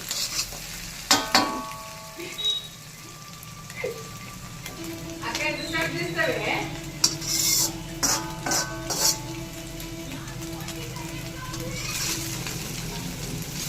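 Egg fried rice ingredients with turmeric stirred in a hot pan, a spatula scraping and clacking in uneven bursts over a steady sizzle, close by, with faint voices in the background.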